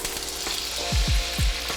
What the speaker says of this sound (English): When you hear sizzling, you're gonna take some water and we're gonna dump it into the pan.